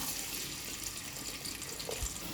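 Chopped onions dropped into hot oil for a mutton gravy curry give a steady, broad sizzling hiss that runs close and fairly loud throughout, with no talk over it.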